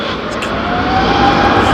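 An Airbus airliner departing London Heathrow roars loud and steady, its broad engine rumble building slightly over a couple of seconds, with a faint voice underneath.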